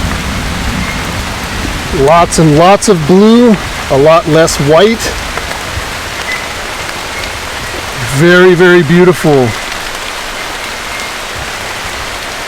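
Heavy rain pours down in an Indonesian rainforest on Waigeo, a loud constant hiss throughout, with a person talking briefly over it in two short bursts.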